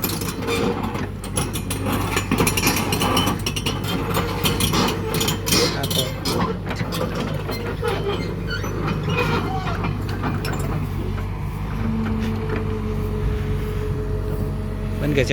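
An excavator (backhoe) getting ready to lower at a piling work site, its engine droning steadily under clattering mechanical clanks and rattles that thin out toward the end, with a voice heard over it.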